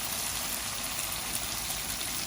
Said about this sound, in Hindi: अब मैं इसमें थोड़ा सा पानी डाल के